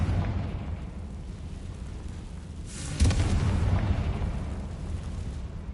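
A Confringo blasting spell goes off in Hogwarts Legacy, a sudden deep boom that rises out of a low, steady game rumble and then settles into a rolling roar, with no voices.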